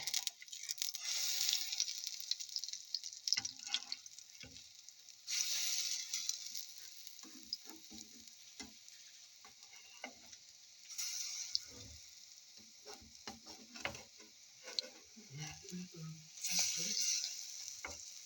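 Apple pancakes fry in a pan with a steady close sizzle, rising in loud bursts and easing between them, with scattered soft clicks and stirring noises.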